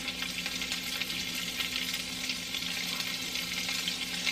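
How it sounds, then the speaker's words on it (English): Chopped onion sizzles in olive oil in a hot pan with a dense, even, crackling hiss that holds steady throughout, close and fairly quiet, with no talking. "So I'm going to put the onion in"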